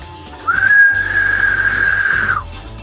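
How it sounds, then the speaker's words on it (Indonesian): A loud, piercing whistle blown by a man in a Wiro Sableng martial-arts tale, a single sustained high tone held steadily for about two seconds with a sharp start and stop. "Ki Sawer Balangnipa mengeluarkan suara suitan keras yang menyakitkan telinga."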